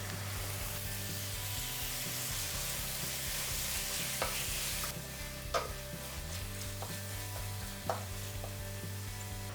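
Onion and tomato sautéing in a pan for vegetable kurma, a soft continuous sizzle with a few sharp scraping stir strokes over a low steady hum, quiet and close.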